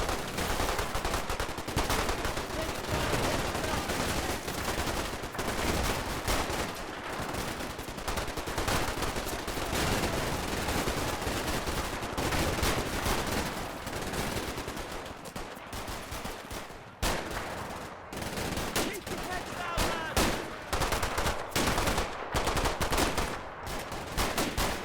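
Sustained small-arms and machine-gun fire from the Combat Mission Final Blitzkrieg wargame as German soldiers rushing a house are cut down, dense and continuous crackling bursts with no pauses.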